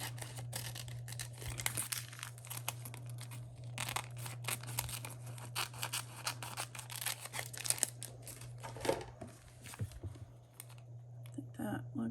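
Scissors trimming a piece of paper for a handmade card: faint, quick snipping and rustling paper close by, irregular and continuous over a low steady hum.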